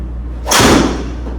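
A single sharp, loud impact from a Callaway TD Max driver with a Ventus Blue shaft striking a golf ball, with a brief crack and a quick fade into steady outdoor background.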